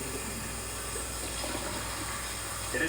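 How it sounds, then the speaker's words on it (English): Hot tap water runs steadily while a hummingbird feeder is rinsed clean of soap residue in a sink, a continuous moderate splashing wash with no voices. "Then I give it a good rinse with hot water, making sure that I rinse off all soap residue."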